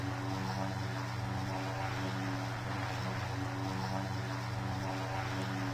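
Single-engine turboprop drone of a Cessna Caravan cruising in the PTFS flight game, a steady, loud, unbroken hum with constant tone throughout, no voices.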